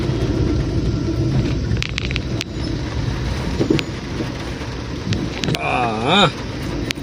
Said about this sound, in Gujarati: વરસાદ હજી બી ચાલુ છે.